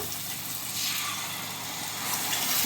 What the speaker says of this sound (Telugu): గ్రేవీకి వాటర్ అయితే యాడ్ చేసుకోవడం